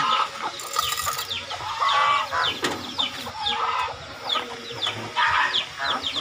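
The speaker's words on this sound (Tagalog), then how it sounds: "Yan, manok na yan." Several chickens cluck and squawk close by in an irregular stream, with rustling and a few sharper calls mixed in.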